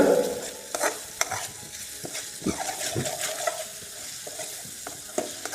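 Softened tomatoes frying in a pan for Nellore fish curry, a steady close sizzle broken by repeated scraping and clinking stirs, with no talk.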